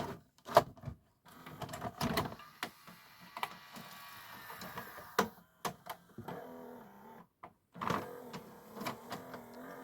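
Akai VS-G745 hi-fi VHS player running a cleaning cassette: irregular mechanical clicks, whirs and motor hums come in short bursts, with brief gaps between and a louder clatter near the end.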